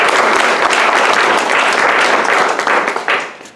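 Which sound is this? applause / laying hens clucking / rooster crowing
applause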